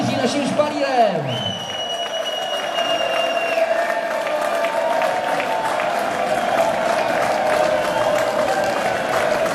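Crowd of home fans clapping and cheering as players of the Motor České Budějovice A team walk out through a tunnel of supporters, a steady wash of applause with a few whistles and an announcer's voice over it early on.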